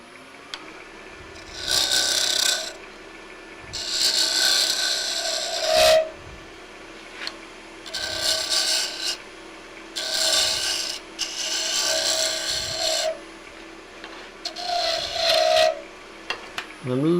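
A roughing gouge cuts an ash nut bowl on a wood lathe, giving loud, close rasping bursts of about one to two seconds each, separated by brief pauses, around eight passes in all.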